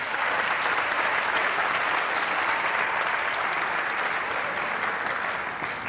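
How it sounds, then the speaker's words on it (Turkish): A Turkish TV game-show studio audience breaks into loud, sustained applause, a dense uniform roar of clapping that keeps going without pause. "Alkışlarla uğurluyoruz"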